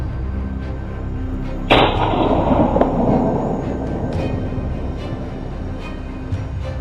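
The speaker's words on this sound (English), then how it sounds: "The gunshot rang out, and the first spoils were ours." A single sharp rifle shot fired at a wild boar during a hunt in Moroccan farmland cracks out loudly, then a long rolling echo fades away over several seconds in the open air.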